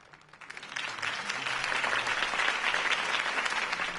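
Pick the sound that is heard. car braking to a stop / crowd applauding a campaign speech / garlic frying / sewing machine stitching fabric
crowd applauding a campaign speech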